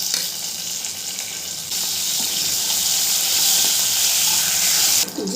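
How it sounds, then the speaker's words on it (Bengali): Bay leaves and whole cumin seeds frying in hot oil for an omelette curry, giving a steady, loud, close sizzle that brightens partway through and continues without any talking. "জিরে আর তেজপাতাটা আমি ভালো করে একটু নেড়ে চেড়ে ভেজে নিয়েছি"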